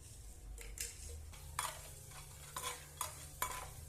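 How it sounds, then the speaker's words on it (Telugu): Tempering spices fry in three to four tablespoons of oil for a Telugu egg and drumstick curry, giving a soft, steady sizzle. A spoon scrapes and clinks against the pan several times, close up and fairly quiet, with no speech. "కొంచెం పోపు దినుసులు వేసుకుందాం"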